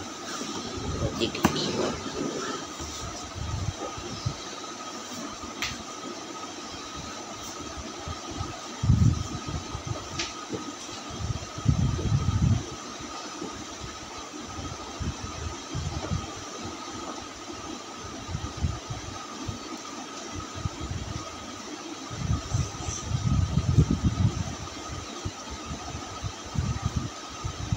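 A train pulling out of a station, low engine rumble and rolling mechanical drone swelling at intervals under a steady hum, with people talking nearby over it.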